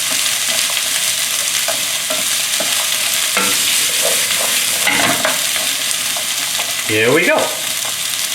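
Zucchini and squash stir-frying in a pan, with a loud, steady sizzle and the scrape of stirring running throughout, while someone speaks briefly over it.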